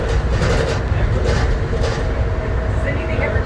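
The Denver airport terminal-to-concourse train runs with a loud, steady low rumble and rolling noise throughout, heard from inside the car with voices murmuring underneath.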